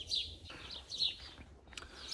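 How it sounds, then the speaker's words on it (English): Harsh, high screeching blue jay calls repeat several times in quick bursts, close by and fairly loud. "The goddamn blue jay."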